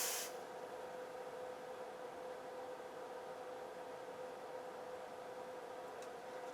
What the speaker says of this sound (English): Spray some of these other resistors.